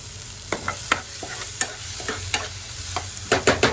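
Masala for a fish curry fries in oil in a pan, giving a soft, steady sizzle under sharp clicks and scrapes of stirring at an irregular rhythm, close by.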